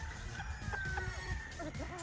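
A gamecock rooster of a local straight breed stag crows at a cockfighting event booth, clear call over a background of clucking fowl and faint talk.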